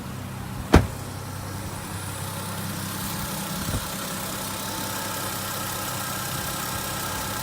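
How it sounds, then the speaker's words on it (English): A Lexus IS200 with a turbo conversion idles steadily and quietly, a smooth low hum that holds even throughout, with one sharp knock near the start and a faint bump midway. "It's a nice engine, quiet, really quiet."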